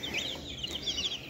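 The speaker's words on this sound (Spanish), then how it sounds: "Miren esos pollos tan hermosos" Chickens on a small farm cluck in short, overlapping bursts, close and steady, with no one talking.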